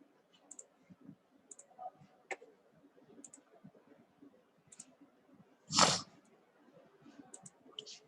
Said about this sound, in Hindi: क्लिक किया, स्केच पे गए और स्केच व्यू पे क्लिक कर लिया।